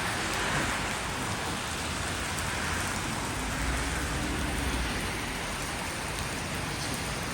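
Heavy rain pours down in a dense, constant roar, with low rumbling thunder rolling underneath throughout.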